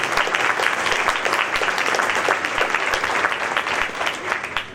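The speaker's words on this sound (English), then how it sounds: "seniors, we need to give Mr. Folan a round of applause." At a senior athletic breakfast, a room full of people gives a round of applause for Mr. Folan, a dense, steady clapping that fades slightly at the end.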